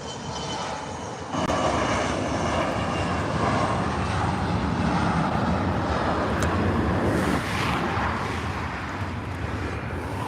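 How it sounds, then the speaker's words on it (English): A Bombardier CRJ 700 jet airliner on its takeoff roll from a runway, a loud, sustained broadband jet roar that swells after a second and holds steady, heard from a distance. "We have a CRJ 700 on the takeoff roll."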